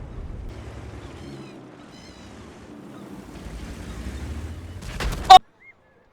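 A sharp, loud burst of tank gun fire from a tier 9 tank destroyer in a World of Tanks-style battle game rings out near the end, after several seconds of low rumbling engine and ambient noise, then cuts to silence.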